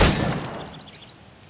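A single gunshot aimed at targets in Assassin's Creed Rogue, a loud sharp blast at the start whose ring decays over about a second, with a faint metallic click at the very end.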